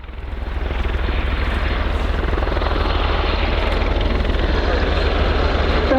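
Loud, steady rotor thump and engine roar of a Royal Navy Merlin HM2 helicopter at the Royal International Air Tattoo airshow, close and continuous, building slightly at the start.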